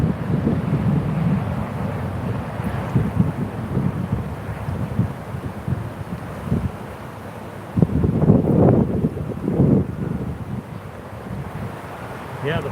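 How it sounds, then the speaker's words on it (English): Strong wind outdoors by the water, buffeting the microphone with a continuous low rumbling roar that surges and gusts harder partway through. "the fucking wind is insane"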